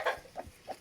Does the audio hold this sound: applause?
no